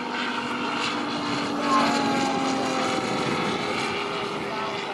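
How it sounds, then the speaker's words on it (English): A radio-controlled scale model propeller plane drones steadily in flight at a model airplane fly-in, a continuous buzzing hum with a slight swell midway, with faint talk mixed in. "the sound of this plane is just truly amazing and so realistic sounding"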